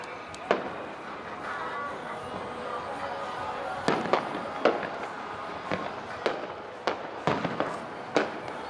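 July 4th fireworks bursts at an outdoor show, a loud sharp bang near 0.5 s, then irregular clustered explosions from about 4 to 8 s over steady crowd murmur and wind, with people talking.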